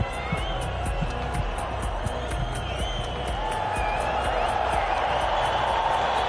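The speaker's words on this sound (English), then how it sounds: "As the crowd roar in anticipation" A stadium crowd in Doha roars in a steady, broad wash before the men's 4x400m relay final, while a commentator talks over it and faint regular high beeps repeat.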